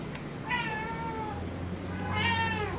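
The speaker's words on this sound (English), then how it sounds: "This is my cat, Harvey." A pet cat named Harvey gives two drawn-out meows, one near the start and one near the end, close and clear over a low steady background hum.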